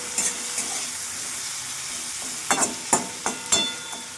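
Ground poppy seed paste frying in a pan with tomato and chilli powder, giving a steady hiss of sizzling oil with a cluster of louder clinks and scrapes from stirring toward the end, no talking.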